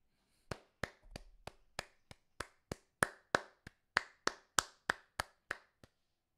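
A character claps in the video game Warzone, about seventeen sharp, evenly spaced hand claps sounding alone in quick succession.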